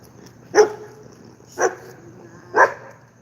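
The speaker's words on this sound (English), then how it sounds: "She ain't got control of this dog." A German Shepherd dog barks three times, sharp single barks about a second apart, fairly close and loud, with no talking.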